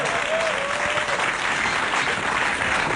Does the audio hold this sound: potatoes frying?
no